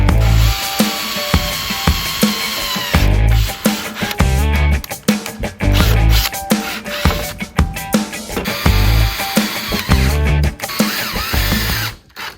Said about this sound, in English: Just need to drill some holes and mount them up.